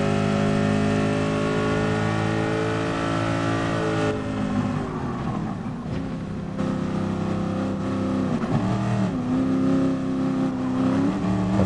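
A race car in the video game Gran Turismo Sport runs down the Mulsanne straight in a slipstream pack, its engine holding a loud, sustained high-revving drone with pitch sweeps and shifts as other cars pass close by.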